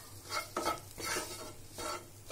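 Chena being stirred in a hot kadhai, a few soft scraping strokes of a spoon against the metal pan in an uneven rhythm, with a light sizzle beneath.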